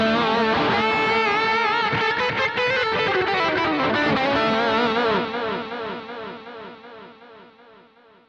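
Heavily processed electric guitar played through a Boss SY-1000 synth effects processor, with buzzy, distorted synth-like tones and a wash of effects, sustained and gradually fading toward the end.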